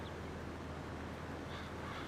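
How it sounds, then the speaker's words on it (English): Crows cawing in the Farming Simulator game's Carpathian countryside, a few faint calls set back over a steady, dense background hiss of ambience. "Look, there's crows as well."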